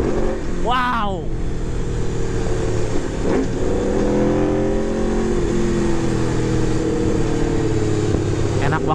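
An Aprilia RSV4 RR motorcycle engine roars loudly and continuously through revving, with a brief voice heard early over the engine noise.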